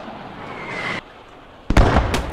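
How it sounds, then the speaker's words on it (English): A mortar round explodes in the World War II shooter Post Scriptum, a sudden sharp blast followed by a heavy rumbling burst after a brief hiss, loud and fairly close. "Ooh, that was a good mortar."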